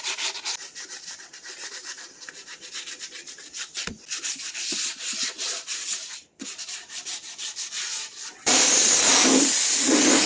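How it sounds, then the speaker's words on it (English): Dry, steady scratching of 220 grit 3M sandpaper rubbed back and forth over a 3D printed Donatello head, close and continuous with short pauses between strokes, ending in a brief louder hiss. "I just used some 220 grit 3M sandpaper you can get at Lowe's"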